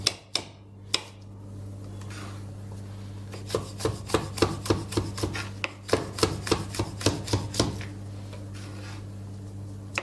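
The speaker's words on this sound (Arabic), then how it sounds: "الآن راح نقطع الفلفل الحار عشان نضيفه" Knife on a cutting board slicing hot chili peppers for pickled hroush, sharp wooden chops in a few separate strikes then quick rhythmic runs, close and crisp over a steady low kitchen hum; no speech.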